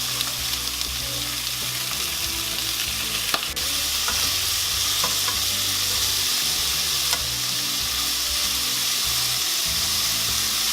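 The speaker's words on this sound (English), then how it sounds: "This has been cooking for about 2 minutes, so we're just going to turn it over." Pork belly for Chinese braised sliders sizzles and fries in a pan, a loud, continuous crackle with a few scraping stirs as the pieces are turned, no talk.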